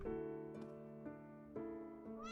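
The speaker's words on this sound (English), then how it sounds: "Let me guess, meow?" A cartoonish cat meows repeatedly in short, tonal bursts over a steady, harmonically rich game music background, close and clear, in the video game Trails of Cold Steel IV.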